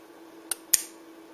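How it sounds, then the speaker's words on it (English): Relays in a wireless H-bridge motor controller running on 12.9 volts click as its button is pushed: two sharp, faint clicks about a quarter second apart over a low steady hum. "you can hear the relays clicking when I push the button"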